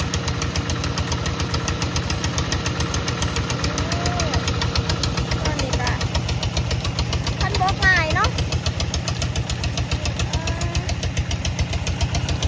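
A loud, steady tractor engine chugging with a rapid knocking rhythm, close by at a fish pond, while someone talks over it.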